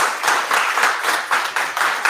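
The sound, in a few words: audience applause for panelists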